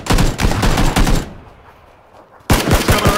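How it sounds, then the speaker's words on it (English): Rapid bursts of automatic gunfire in the shooter game PUBG, loud and close, with a roughly one-second gap of near silence in the middle before the firing resumes. "No, that's me shooting."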